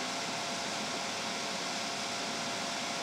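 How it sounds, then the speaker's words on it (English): Unifi Enterprise NVR storage server whirs with a steady broadband chassis fan hiss, even and continuous at moderate level, with no other sounds. "This is the sound of a ENVR."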